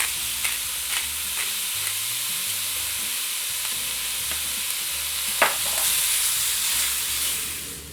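Meat seasoned with salt and pepper for Rahmgeschnetzeltes sizzles steadily in a pan, and repeated stirring scrapes and clicks are heard through the constant frying hiss, near and clear.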